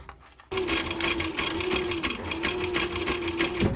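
A sewing machine stitches a curved seam on a leather pillow, starting abruptly after a brief quiet moment and then running in a steady, fast, even whir close by with no pauses.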